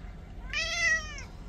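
A single clear cat meow, drawn out and tonal, close by against a quiet background.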